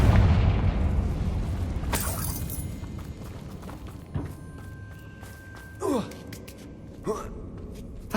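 A Confringo fire spell goes off in the Hogwarts Legacy video game with a loud boom that fades away. Sharp magical whooshes and impacts follow, and there are gasps.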